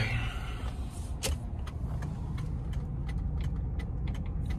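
A car is being driven, with a steady low engine and road rumble throughout, plus a few close clicks and rattles from inside the cabin.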